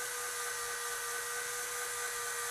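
A drill spins a Wilson Combat 1911 full-length guide rod while 1200-grit paper polishes it, giving a faint, continuous high whine that holds steady throughout.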